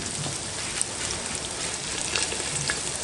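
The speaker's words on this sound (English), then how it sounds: "Probably could have let that oil come up the heat a bit, but she's still bubbling" Oil sizzles and bubbles steadily in a cast-iron South African potjie pot as chicken pieces fry, a dense close crackle with scattered brighter pops throughout.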